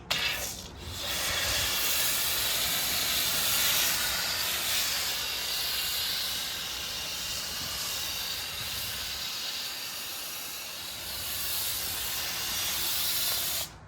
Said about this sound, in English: All right, we're gonna foam it up and do a touchless wash.